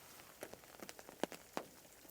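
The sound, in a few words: rain pattering on hammock tarp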